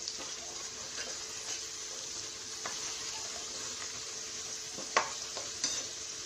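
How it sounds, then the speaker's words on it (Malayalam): Curry leaves and sliced onions frying in hot oil for chicken 65, a steady close sizzle with a few soft stirring clicks and scrapes. "നമുക്കിതിലേക്ക് നമ്മുടെ കറിവേപ്പിലയും കൂടി ഇട്ട് വറുത്തെടുക്കാം."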